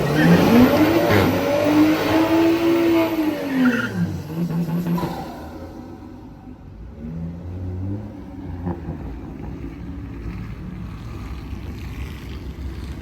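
Race cars, among them a Holden Caprice V8, run at Orlando Speed World: loud, close engines rev and roar past, then fade to a distant rumble with wind noise.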